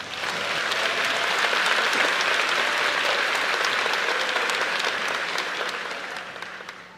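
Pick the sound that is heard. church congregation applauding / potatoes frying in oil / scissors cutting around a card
church congregation applauding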